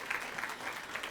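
Audience applause at the 2019 QueerOut Awards ceremony, a steady wash of many hands clapping in a hall with no voices over it.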